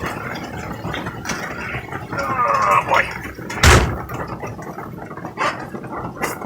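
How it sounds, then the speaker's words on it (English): A door on a 1975 Kenworth LW924 truck shuts with a single solid thud near the middle, close by, amid steady rain noise and some talk. "I'm going to shut that door."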